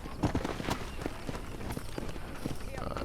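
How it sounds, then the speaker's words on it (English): Horse hooves in Red Dead Redemption on Xbox One: a warhorse running up, with quick clip-clop beats over a busy game soundscape. "We'll just wait for our horse to come"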